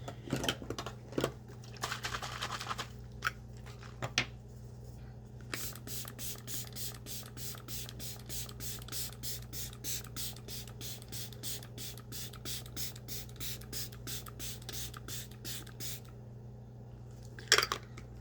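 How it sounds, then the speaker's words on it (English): Hissing bursts of a makeup setting spray, fired in a long run of rapid, evenly spaced pumps up close, with a few scattered taps and rustles before and after. "Setting spray."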